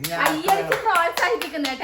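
Hands clap repeatedly in encouragement beside an outdoor kitchen, a quick run of sharp claps mixed with voices talking over them.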